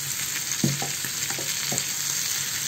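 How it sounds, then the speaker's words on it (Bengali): Onions fry in butter in a wok with a steady, even sizzle, broken by a few soft clinks and stirring knocks, close and moderately loud with no talking. "একটু পেঁয়াজ ভেজে নেব।"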